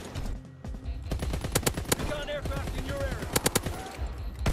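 A LAD machine gun in Call of Duty WW2 fires rapid, sharp bursts, close and loud, with short gaps between volleys and a voice talking underneath.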